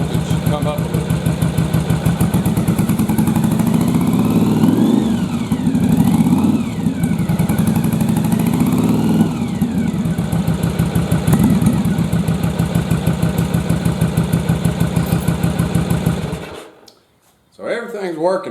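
A Yamaha Virago motorcycle, running on only one cylinder, idles with a steady loud chugging pulse, then throttles up in several revving swells before the engine cuts out near the end.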